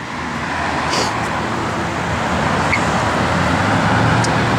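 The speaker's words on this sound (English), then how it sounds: "Car's got a great sound, little thump to it." A 1955 Chevrolet 210 engine idles with a steady low rumble and faint rhythmic thump, heard outdoors with some background road noise.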